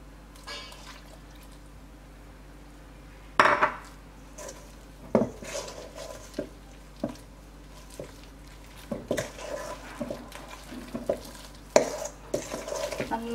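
Appam batter being mixed with coconut milk in a bowl, giving soft wet stirring and scraping with scattered clinks of a spoon against the bowl, close and fairly quiet with a few sharper knocks.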